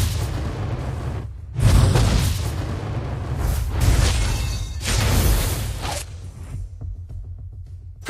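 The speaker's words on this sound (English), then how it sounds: "Our turret has been destroyed." A turret blows up in Mobile Legends, a series of deep, booming blasts with rumbling bursts that swell and fade over several seconds, fairly loud and heard without talk.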